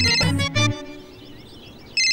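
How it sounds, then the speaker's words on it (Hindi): A mobile phone ringtone rings in a quiet classroom setting, a loud melodic burst of bright tones in the first three quarters of a second, fading to near silence, then sounding again at the end. "फोन किसका बज रहा है?"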